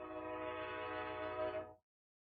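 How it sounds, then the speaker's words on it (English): A passing train sounds its horn in one long, loud, steady multi-tone blast that cuts off abruptly into silence. "Excuse the train."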